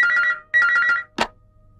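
A telephone rings in two clear electronic trills, close and loud, followed by a short clunk as the receiver is picked up.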